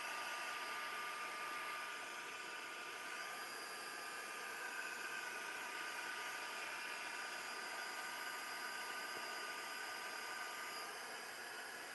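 A dryer blows over a mixed media art page as it dries it, making a steady, even whir that runs unbroken and alone.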